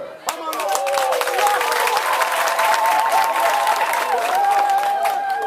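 Large crowd at a political rally in Tchamba, Togo, applauding and cheering, a dense sustained patter of many hands clapping with shouts and whistles mixed in, loud and continuous after a brief opening lull.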